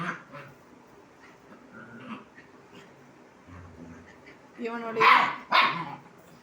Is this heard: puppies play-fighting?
yes